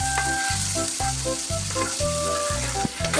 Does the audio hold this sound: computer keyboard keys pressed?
no